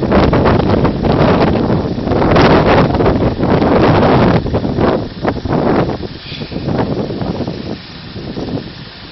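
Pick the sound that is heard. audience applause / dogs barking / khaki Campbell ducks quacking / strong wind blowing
strong wind blowing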